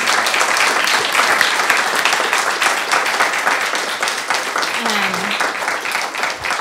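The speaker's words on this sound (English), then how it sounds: "let's give another round of applause for all 3 of them" Sustained, dense applause from an audience at a YouthCO community event fills the whole stretch, loud and even without any break.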